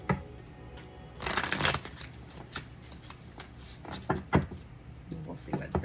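Oracle cards are shuffled and drawn from a deck in a run of crisp, riffling bursts with scattered soft slaps and taps, close and fairly quiet, alongside faint background voice.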